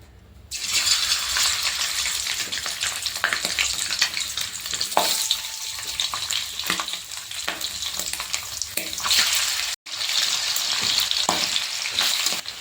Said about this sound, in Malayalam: പോർക്ക് ഫ്രൈ ചെയ്തെടുക്കുമ്പോൾ ഇത് പൊട്ടിത്തെറിക്കും